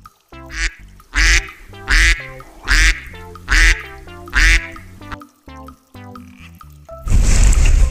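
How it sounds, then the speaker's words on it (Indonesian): A duck quacks repeatedly in loud, evenly spaced bursts, about six in a row, followed by a noisy splash-like burst at the end. "Ini adalah bebek."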